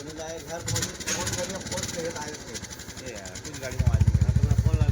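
A motorcycle engine revs under the throttle amid voices talking, its pulsing, throbbing rumble growing loud and rhythmic near the end.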